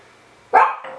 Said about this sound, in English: You might hear puppies in the background.